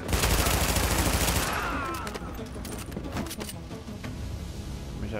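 Rapid bursts of gunfire in the video game The Division crackle loudly at first, then continue as scattered, lighter shots and clatter through the rest.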